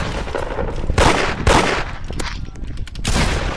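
Rapid gunfire bursts from the Roblox game Da Hood, loud, close and repeated, with several sharp volleys in quick succession and brief gaps between them.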